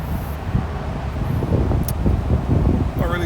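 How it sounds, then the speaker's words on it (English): Steady outdoor wind rumbles and buffets the microphone with a low, fluttering roar. It holds at a fairly constant level throughout, with faint rustling mixed in. "it's a little bit windy"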